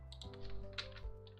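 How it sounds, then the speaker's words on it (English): Rapid computer keyboard typing during a Rise of Kingdoms game session, a run of quick clicky key taps over a steady low hum, close and moderately loud. "Okay, I have to use my keyboard, I guess."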